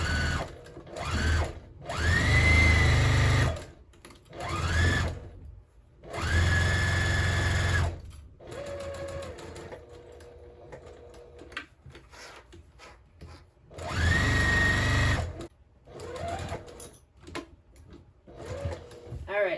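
Sewing machine stitching a quarter-inch seam on a patchwork receiving blanket, several loud whirring runs of a few seconds each separated by pauses, with someone talking quietly between the bursts.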